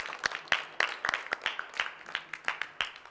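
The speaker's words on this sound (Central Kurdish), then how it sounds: "باشە چەپڵێ بە خۆتان؟ چەپڵە." Children clapping in a group, a series of sharp hand claps at an irregular rhythm, fairly close and moderately loud, with no speech over them.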